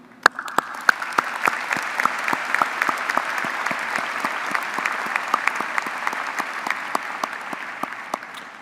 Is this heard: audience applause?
yes